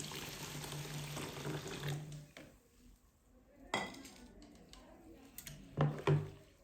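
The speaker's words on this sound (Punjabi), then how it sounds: "ਇਸ ਵਿੱਚ ਆਪਾਂ ਗਰਮ ਪਾਣੀ ਪਾ ਦੇਵਾਂਗੇ" Hot water is poured into an open vessel over pearl millet khichdi pounded in a mortar, a short splashing pour at the start. Quieter clinks and knocks of utensils follow.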